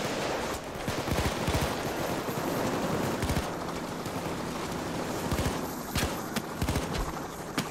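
Gunshots in Payday 2, with repeated sharp reports and rapid bursts of fire scattered through a loud, busy in-game soundscape.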